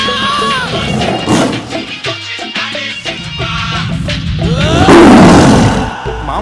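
A tiger roars in a film comedy scene, with loud growling roars amid crashing noise and excited voices, building to a powerful roar near the end.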